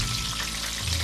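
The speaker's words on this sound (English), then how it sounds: "Here I am guys, frying the chicken." Coconut-breaded chicken frying in hot oil, a steady, dense sizzle with crackling pops running through the whole stretch at close range, with no talk over it.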